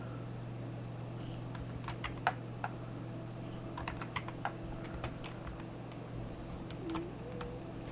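Computer keyboard keystrokes entering a Shift+Z shortcut in Lightwave 3D 10.1, a scattered run of light, close clicks over a steady low hum.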